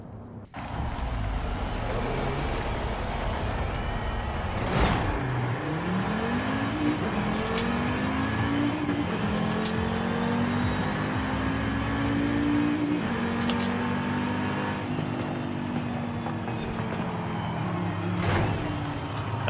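A 2018 Audi TT RS in a Forza Horizon 5 street race, driven with a wheel: a steady, loud engine drone that rises through the gears, with long revving sweeps and brief shift dips, alone with no talk.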